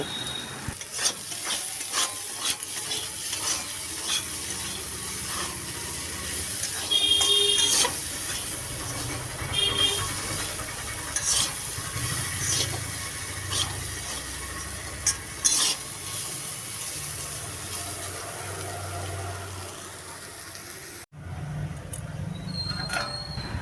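Jackfruit seeds frying in a pan with green chilli, stirred now and then against a steady sizzling hiss that runs throughout, with scattered scrapes and clicks and a brief shift in tone near the end, with no one speaking.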